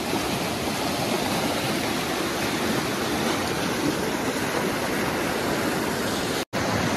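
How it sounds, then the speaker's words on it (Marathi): Powerful rush of a flooded river in the Konkan countryside, a dense, steady roar of fast-flowing water that stays loud and unbroken throughout, with a momentary dropout near the end. "पाण्याला फोर्स बघा इथून किती आहे."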